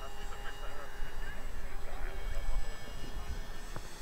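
An Avios KingTwin 1700mm twin-engine RC foam plane drones overhead as it flies slowly in windy conditions. Its engines hum steadily, moderately distant, beneath ongoing wind noise and intermittent talk.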